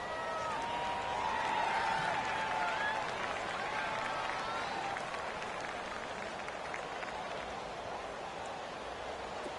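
A PS4 football video game crowd roars ahead of a big third down, a soft, diffuse wash of cheering and applause that swells slightly early on, then holds steady at a low level.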